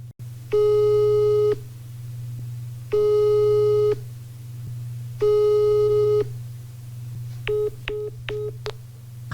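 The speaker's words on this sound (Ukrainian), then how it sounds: "На наш телефонний дзвінок Борис Володимирович не відповів." An unanswered telephone call gives a repeating tone, three long even beeps with pauses between them, followed by a few short rapid beeps over a steady low line hum.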